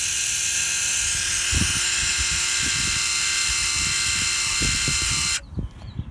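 An electric three-way valve actuator on a Killerchiller runs with a steady, close electric whirring buzz that cuts off abruptly near the end, followed by faint handling sounds.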